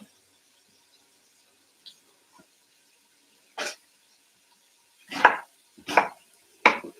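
A knife chops onion on a cutting board for a large batch of broth, with a few faint taps and then a single chop, followed by three firm, evenly spaced chops close up in an otherwise quiet kitchen.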